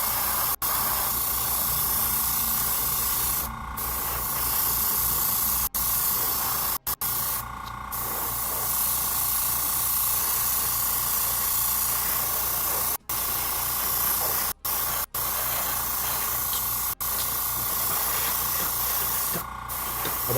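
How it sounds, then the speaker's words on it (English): An airbrush sprays paint onto a miniature in a steady, close, loud hiss that runs almost continuously, broken by a few brief cut-offs when the trigger is released. "Airbrushing is so satisfying though"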